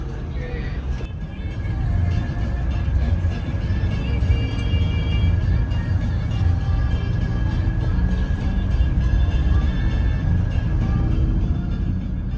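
Steady low engine rumble and road noise heard from inside a moving Volvo B11R bus on a coastal road out of Manado, continuous throughout with no clear speech.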